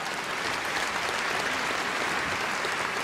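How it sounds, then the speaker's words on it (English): Audience applause fills a 6,500-seat arena hall at Crufts 2016 during the Eukanuba Friends For Life final: dense, steady clapping throughout, loud and continuous with no voices standing out. "give them a round of applause"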